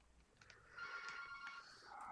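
A shop telephone rings faintly in the background, a soft electronic ringtone with a steady warbling tone that repeats through the short stretch, with no talking.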